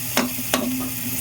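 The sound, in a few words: garlic frying until brown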